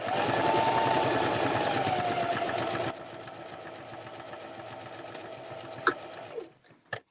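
A sewing machine stitches down a Christmas stocking, humming in a steady fast rapid chatter that drops in pitch partway through, then slows and stops with a few clicks at the end, close and alone.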